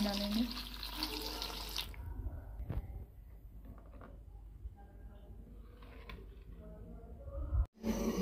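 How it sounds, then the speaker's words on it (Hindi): Cold water pours from a tap into a cooking pot holding boiled Cordia myxa (gunda) fruits, a steady splashing rush at first that then gives way to quieter trickling and a brief clunk near the end. "अभी इसमें हम ठंडा पानी डालेंगे।"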